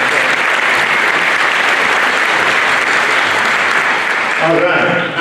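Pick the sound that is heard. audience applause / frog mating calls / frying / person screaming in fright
audience applause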